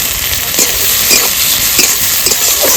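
Chopped onion, garlic and tomato frying in oil with panch phoron, a loud, dense, continuous sizzle right up close with faint stirring scrapes repeating underneath.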